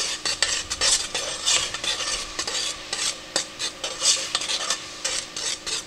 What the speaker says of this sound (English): we're gonna go ahead and stir it with the oil